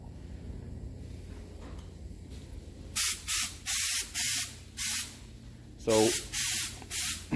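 A spray gun lays SEM vinyl dye onto an old car top in a series of short, loud hissing bursts separated by pauses, with brief speech at the start.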